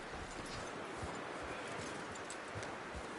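Horse hooves in Red Dead Redemption 2, a quiet clip-clop of walking hoofbeats under a dense, hissy background wash, faint and steady.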